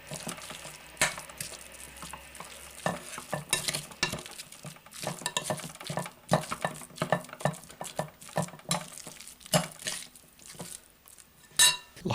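Chopped onions are stirred into raw burger meat in a bowl, an irregular series of close, wet squelches and clinks of a utensil against the bowl, with no talking.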